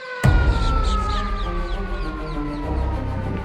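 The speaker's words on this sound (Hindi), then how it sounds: "ये किस चीज़ का सायरन बजता है पता नहीं" A loud emergency siren wails nearby, sweeping in long, falling tones over a low rumble of traffic.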